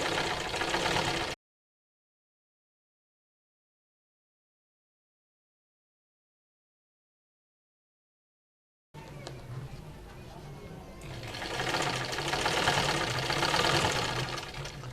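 A sewing machine stitches a kameez in short bursts of steady mechanical whirring, with a long stretch of silence in between and a louder run toward the end, and someone talks over it.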